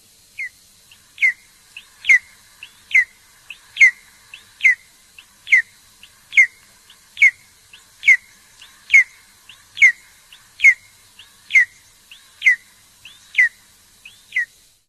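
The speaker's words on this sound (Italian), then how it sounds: "Aquila reale." Golden eagle call: a long, steady series of clear, high whistled yelps about once per second, each with a short downward-curving note, sharp and isolated against a quiet background, with no talk.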